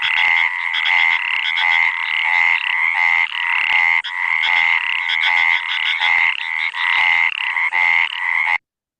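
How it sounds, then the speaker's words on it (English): Cricket frogs of the Dicroglossidae family croak in agricultural fields, a dense, loud chorus of rapid rhythmic calls repeating steadily without pause until an abrupt stop near the end. "then you have group of frogs which are called the cricket frogs group"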